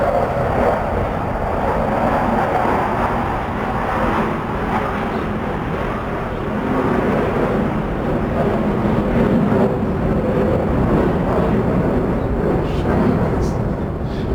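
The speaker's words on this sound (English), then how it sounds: "The planes flying above." Planes pass overhead as a steady, broad roar that lasts throughout at an even, fairly loud level, with no break or clear approach and fade.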